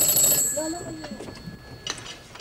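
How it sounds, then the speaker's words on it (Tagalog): Old-style telephone bell ringing indoors in a 1980s Filipino comedy sitcom, a short bright metallic ring at the start and another near the end, with speech and room sounds between. "Ayun na naman telepono. Oh, telepono na naman."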